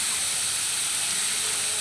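Pieces of pointed gourd (potol) hitting a hot pan of oil give a steady, loud sizzling hiss that holds evenly throughout, with no voice over it.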